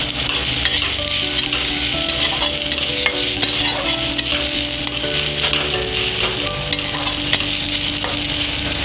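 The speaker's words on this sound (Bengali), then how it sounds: "ভালো করে ভাজবো।" Food with coriander leaves sizzles steadily as it fries in a pan, while a utensil scrapes and stirs, clinking against the metal throughout.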